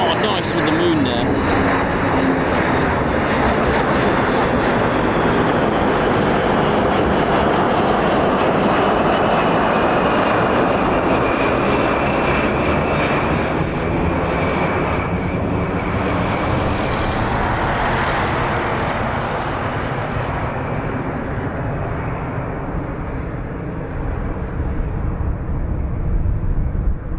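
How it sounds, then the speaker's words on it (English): Heavy military aircraft of the US Air Force taking off or landing at RAF Mildenhall, such as a KC-135, CV-22 or MC-130J, a loud continuous engine roar that holds steady for nearly half a minute with a slow rising and falling whine, with talk over it. "lots of takeoff and landing training here"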